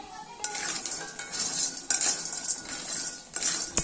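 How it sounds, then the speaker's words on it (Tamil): Roasted, skinned peanuts are stirred in a pan, with a metal spoon clinking and scraping against it in quick irregular knocks, close up and with no talk. "இப்போ வறுத்து இருக்கிற வேர்க்கடலை சேர்த்துக்கலாம்"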